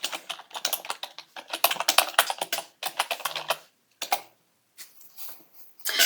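Keys clatter on a computer keyboard as a folder name is typed, a close, rapid run of clicks in bursts with short pauses between them.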